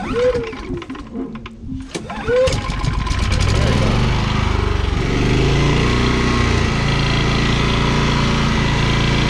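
An XP9000IH generator engine starts after a few seconds of handling noise, then settles into a loud, steady, close running drone that holds to the end.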